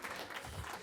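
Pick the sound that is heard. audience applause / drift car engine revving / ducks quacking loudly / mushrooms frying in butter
audience applause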